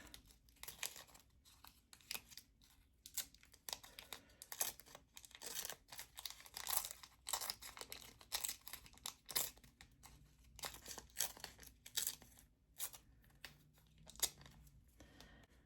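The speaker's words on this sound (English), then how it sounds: "I'm going to tear this edge." Sheets of palette paper being torn along the edge and crinkled by hand, a run of close, papery rips and crackles in irregular bursts with no talking.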